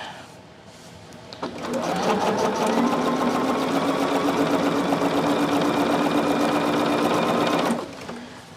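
A sewing machine runs steadily for about six seconds, stitching a tack-down seam on a small quilt, loud and close, with a brief start and stop at either end and no talk.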